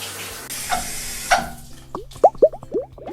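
Water splashes and trickles over Play-Doh toy dinosaurs in a toy tub, first a running pour, then a few distinct close plops and drips.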